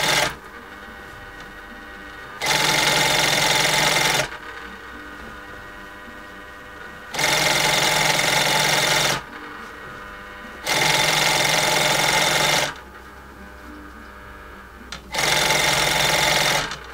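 A sewing machine hemming a lined pinch-pleat curtain runs in four loud, steady bursts of rapid stitching, each a couple of seconds long, separated by quieter pauses.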